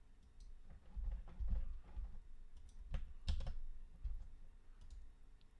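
A password is typed on a computer keyboard with a quick, irregular run of soft key taps and clicks up close, some heavier thumps mixed in, quiet overall with no talking.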